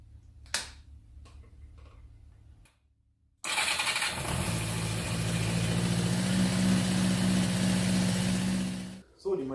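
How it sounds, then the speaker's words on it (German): Yamaha motorcycle engine starts after a few quiet clicks and handling noises, then settles into a steady, rumbling idle close by while warming up before carburetor synchronization. "So, die Maschine ist warm gelaufen."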